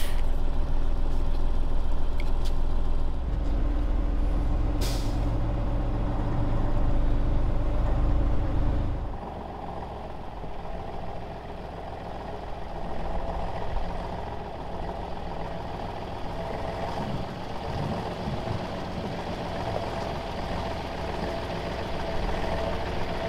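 An overland truck in low ratio gear grinds up a hill, its engine a heavy, loud low rumble that eases after several seconds into a steadier, somewhat lighter drone for the rest.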